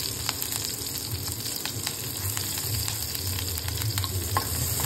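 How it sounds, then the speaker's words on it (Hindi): Cumin seeds, green chilli and a pinch of asafoetida frying in hot oil in a pan, a loud, dense, continuous sizzle with small crackling pops throughout and no talking. "हमने जीरा डाल दिया है और हरी मिर्च डाल दिया है अब हम इसको फ्राई करते रहेंगे और हींग डाल देते हैं एक पिंच"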